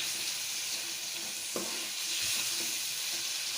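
Mutton karahi sizzling steadily in a pan while being stirred after fresh coriander is added, with a brief scrape of the spoon midway and continuous hissing fry underneath.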